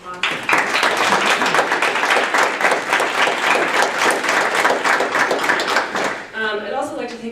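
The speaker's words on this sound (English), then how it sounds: "let's give them a round of applause." A lecture-hall audience gives a round of applause, dense and even with crisp individual claps, lasting about six seconds before a speaker resumes talking.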